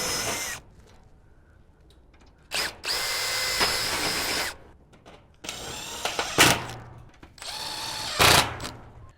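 Power drill driving 20mm screws into a steel Absco shed panel during assembly, several loud high-pitched bursts of a few seconds each with whirring motor, separated by quieter gaps with faint background noise.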